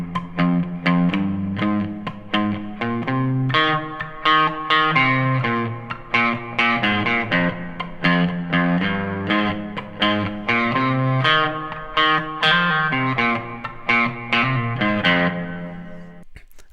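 On guitar, the main riff plays as a steady, rhythmic repeating pattern of picked notes with an effects-coloured tone, close and continuous for about sixteen seconds.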